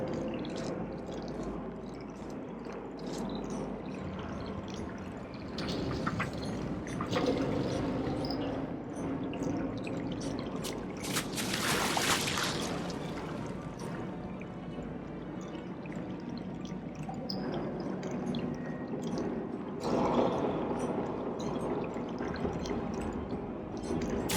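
Water flows and pours steadily through a condemned underground test area in the video game Portal, with a brief louder gush midway and drips, heard alone at moderate distance.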